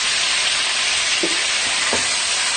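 Meat sizzles steadily in a hot pot on the stove, a dense continuous frying hiss with two brief soft knocks as the pieces are turned over.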